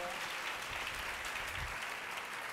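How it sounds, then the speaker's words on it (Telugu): A church congregation at a Sunday service bursts into sustained applause, a dense even wash of many hands clapping in a hall, moderately loud and unbroken throughout. "చప్పట్లు కొట్టరే గట్టిగా."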